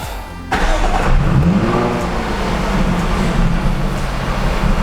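A Jaguar F-Type V6 340 hp sports car engine starts abruptly with a loud catch, then revs up and settles into a strong, throaty idle close by.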